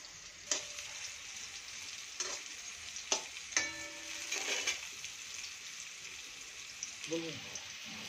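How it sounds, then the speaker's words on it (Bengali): Bitter gourd (karela) frying in hot oil in a wok, a steady close sizzle with several sharp utensil stirs and scrapes scattered through; faint voice sounds may sit underneath. "কড়াইতে তেল গরম হয়ে গেছে, করলা ছেড়ে দিলাম, এখন ভেজে নিচ্ছি।"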